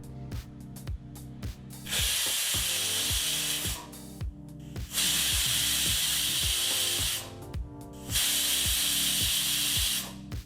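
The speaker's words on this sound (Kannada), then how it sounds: "ಹೀಗಿಲ್ಲಿ ಕುಕ್ಕರು 3 ವಿಸಲ್ ಬಂದಾಯಿತು" A pressure cooker cooking chickpeas for channa masala lets out three loud, hissing whistle bursts of about two seconds each, separated by rhythmic rattling of the weight on the lid.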